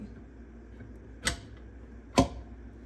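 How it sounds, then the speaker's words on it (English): Stainless steel filter basket of a Breville cold juicer snapping onto the motor coupling, two sharp close clicks about a second apart over quiet room noise. "push down until we hear a snap"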